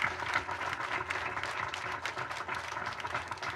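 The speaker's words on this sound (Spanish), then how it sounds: "Un aplauso para Chafik Jorge Ander." Steady, sustained applause from a crowd at an FMLN commemoration of Schafik Handal's birth anniversary, a dense even patter of many hands filling the whole stretch without pause.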